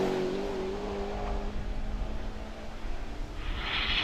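Historic touring cars, including a Lotus Cortina, race at Croft circuit, with a rising and falling engine drone and a car sweeping past at moderate distance, ending in a louder burst of engine noise.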